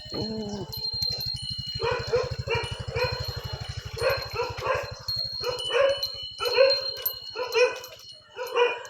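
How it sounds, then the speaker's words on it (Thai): Dogs bark repeatedly in a quiet village, short loud barks and yips in irregular bursts, fairly close, over a steady low mechanical hum. "มีแต่เสียงหมาเห่านะครับ"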